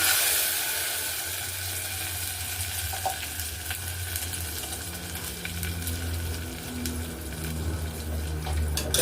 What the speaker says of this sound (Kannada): ಅದಕ್ಕೆ ಈರುಳ್ಳಿ ಹಾಕ್ಕೊಳ್ತಾ ಇದ್ದೀನಿ. ತೊಣಗಕ್ಕಿರೋ ಈರುಳ್ಳಿ, ಈಗ ರುಬ್ಬಿಟ್ಕೊಂಡಿರೋ ಮಸಾಲೆ ಹಾಕ್ತೀನಿ